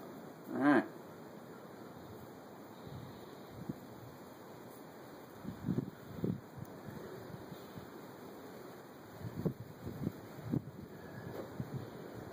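Wind outdoors buffets the microphone in gusts, giving low rumbling bursts that come and go over a quiet background, with one brief sharp sound near the start and no talking.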